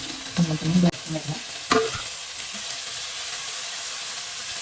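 Onions, tomato and green chilli sauté in a pan for kappa biryani, with a few stirring scrapes early on over a steady close sizzle that carries on alone.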